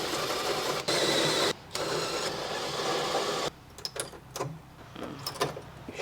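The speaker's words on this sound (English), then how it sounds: "we are now on to drilling the big hole to make room for the sump." A drill bores a large hole through a fuel tank for a sump, giving a loud, steady grinding whine with one brief pause, then stopping, leaving scattered clinks and scraping handling noises.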